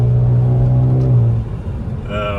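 A Kia Cerato Koup's engine drones loudly and steadily on kick-down, then the note drops away and climbs again near the end, close and continuous.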